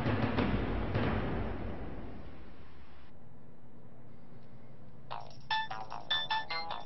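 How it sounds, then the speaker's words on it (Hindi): After a burst of muffled noise, an electronic phone ringtone chimes in a bright, repeating melodic pattern, moderately loud and close. "बीनू, फोन है तुम्हारा?"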